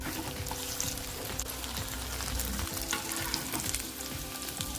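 Chicken cutlets shallow-fry in oil in a pan, a dense continuous sizzle and crackle close up, with occasional soft stirring.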